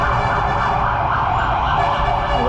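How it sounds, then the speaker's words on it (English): Emergency sirens wail steadily in a city street, loud and continuous with a rising and falling tone over traffic noise. "a lot of sirens here"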